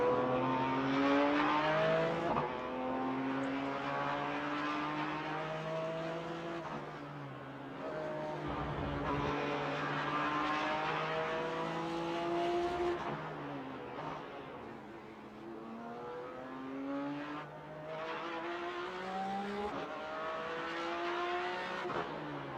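A mid-engined Porsche 917 Cayman GT4 race car in a racing video game, its engine droning steadily and climbing repeatedly through the gears, a smooth, sustained tone that rises and drops in pitch with each shift.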